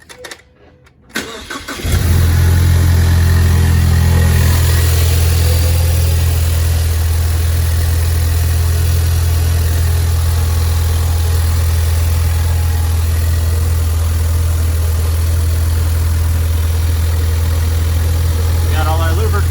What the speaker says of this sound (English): we're gonna fire it up for the first time with the new turbo